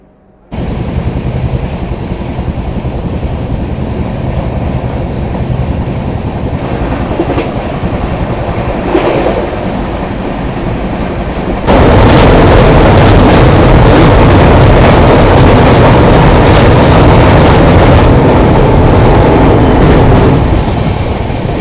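Tamralipta Express 12857 from Howrah to Digha runs at speed, its steady rail rumble growing much louder and harsher about halfway through, with rhythmic clatter and no voices.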